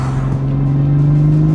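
A manual Toyota GR Supra sports car engine revs on the road: a loud, close, steady engine drone that climbs slightly in pitch, with a rough rumble underneath and no talk over it.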